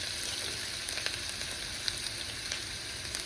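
Onions frying in hot oil for a Telugu curry, a steady broadband sizzle with faint crackles and pops scattered throughout, quiet and continuous with no voices.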